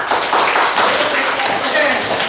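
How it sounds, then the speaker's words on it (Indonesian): A class of eighth-grade schoolchildren applauds in their classroom, a loud, steady burst of many small hands clapping together with faint voices underneath. "Anak-anak, tepuk tangan sekali lagi untuk antusias dari kelas"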